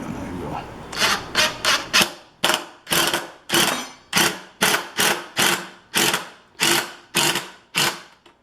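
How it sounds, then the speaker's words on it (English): Repeated short bursts of a power drill driving pocket hole screws into a wooden farmhouse table, about a dozen sharp whirring pulses in steady rhythm, close and loud, with no talk. "So I'll put my pocket holes right in here."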